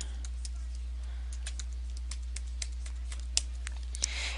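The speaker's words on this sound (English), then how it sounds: "So I'm going to type that in" A password being typed on a computer keyboard, soft irregular key clicks with a few sharper taps, faint over a low steady hum.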